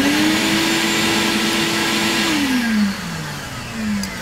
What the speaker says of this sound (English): I start that vacuum cleaner when I see a little bit of dust falling